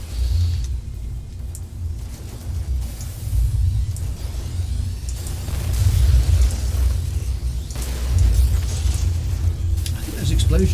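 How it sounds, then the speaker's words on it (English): Explosions in the No Man's Sky video game: heavy, rumbling booms and deep bursts rolling over one another in a loud, continuous low roar, with people talking over the game sounds. "I think those explosions have improved as well"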